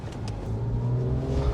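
A Porsche 911 engine, either a Carrera 3.2 or a 997 Carrera S, idles and revs steadily right after starting, with a loud, continuous low rumble that rises slightly in intensity.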